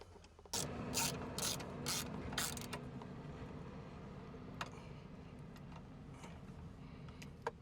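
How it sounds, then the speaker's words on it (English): Screws being driven to fasten a grab handle mount with M8 button head screws into rib nuts on a Polaris Xpedition front grab handle install: a run of close, loud ratchet clicks at first, then quieter mechanical ticking and creaks. "we'll now fasten our grab handle mount using the M8 button head screws located in the hardware kit."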